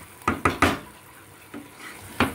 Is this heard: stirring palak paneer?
yes